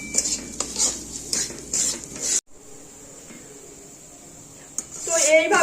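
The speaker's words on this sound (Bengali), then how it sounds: "সুজিটা এবার নাড়াচাড়া করে লাল করে পুরো একদম ভেজে নেব।" Semolina is stirred and roasted in a pan with ghee and oil, with spoon scrapes and clinks against the pan over a low sizzle, then a quieter stretch before the stirring resumes.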